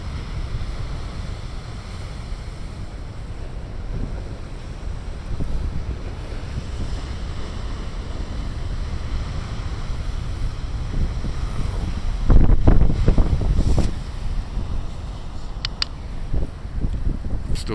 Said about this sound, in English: One more set of big waves.